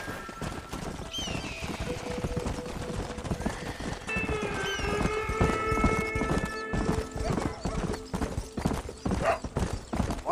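Horse hooves clip-clop at a steady gallop while riding in Red Dead Redemption, a dense rhythmic pounding close up throughout, with neighs and whinnies rising over the beat.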